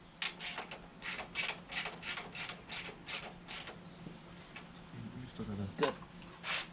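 A ratchet snugs bolts while a Kuryakyn plug-in rider backrest is fitted to a 2022 Harley-Davidson Street Glide Special FLHXS, giving a quick, even series of close clicking strokes, followed by a brief voice.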